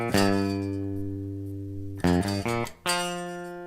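Electric guitar plays an easy riff with sustained, ringing notes, a few quick note changes near the end, then a final note left to ring, loud and close with no talk.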